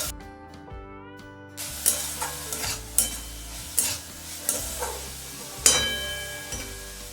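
Vegetables including capsicum and beans sautéed with a little salt in a pan for chicken soup, with scraping stirs and clinks of a utensil against the pan recurring every second or so over a faint sizzle and soft background music.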